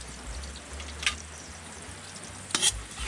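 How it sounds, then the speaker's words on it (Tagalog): Duck liver and heart sauté in a pan, a quiet steady sizzle close by with two brief sharper scraping stirs, no voices. "ang unahin ko pong igigisa ngayon ay itong liver. Liver at saka puso"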